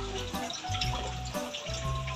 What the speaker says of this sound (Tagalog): pwede natin dagdagan ng konting tubig para meron siyang sabaw